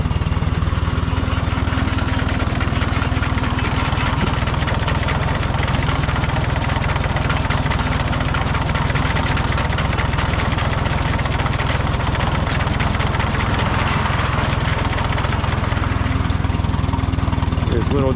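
A small sickle bar mower engine idles steadily at close range, a constant rattling drone that holds evenly throughout.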